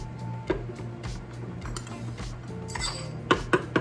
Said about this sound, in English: First, I'm gonna put my butter in here.